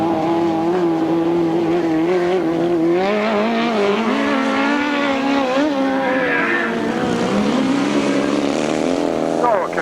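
Grasstrack sidecar motorcycles, including a CV Kawasaki outfit, race toward the finish line at a 1992 meeting, with a loud, continuous engine drone that rises and falls in pitch across the whole stretch.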